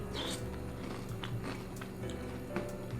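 Someone bites and chews a crunchy snack from a grocery store, giving a few sharp crackling crunches spread over a quiet, faint room background with no speech.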